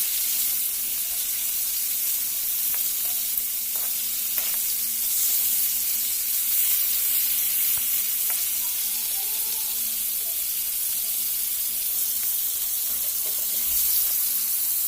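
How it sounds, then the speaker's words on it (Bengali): Pieces of pangasius fish fry in hot oil in a pan, a loud steady sizzle lasting throughout, with occasional faint clicks and scrapes as the fish is turned. "মাছগুলো আমার এক পাশে ভাজা হয়ে গিয়েছে, অপর পাশে উল্টিয়ে নিয়ে কিছুক্ষণ সময় ভেজে মাছগুলো আমি নামিয়ে নেব"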